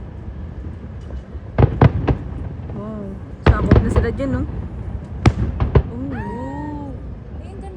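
Fireworks bursting at a pyromusical competition, several sharp booming blasts in loose clusters with whistling, crackling trails between them, while spectators talk excitedly throughout.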